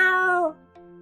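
A kitten in the video game Choices: The Royal Heir gives one clear, loud, drawn-out meow that falls in pitch, followed by a quieter short tail.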